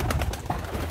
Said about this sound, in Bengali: এখানে হচ্ছে আমার কবুতর 12টা না 14টা কবুতর আছে।